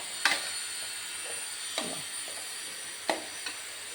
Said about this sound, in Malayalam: ഇതാ മസാലയെല്ലാം ഇട്ടിട്ട് ഒരു 2-3 മിനിറ്റായി ഇതിങ്ങനെ ഇളക്കുന്നു.